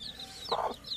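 A country chicken gives a short, close cluck among soft chirping from chicks.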